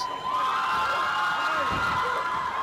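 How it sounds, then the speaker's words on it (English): A boxing arena crowd cheers and shouts throughout the closing seconds of a women's 57 kg bout, a dense, steady roar of voices with no clear pauses. "The crowd knows."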